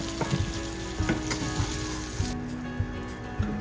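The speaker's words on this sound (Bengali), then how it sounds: "আমি কম আছি আলুটা ভাজলাম তুলে রাখছি আলুটা" Potatoes sizzle loudly in hot oil with a steady crackle, punctuated by soft periodic knocks and scrapes of stirring in the pan.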